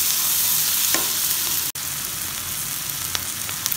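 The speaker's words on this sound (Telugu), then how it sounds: "హై ఫ్లేమ్లోనే పెట్టుకొని ఫ్రై చేసుకోండి" Gram flour frying in oil over a high flame for a cluster beans fry, with a dense, steady sizzle and occasional sharp stirring scrapes, broken by a split-second dropout midway and heard alone.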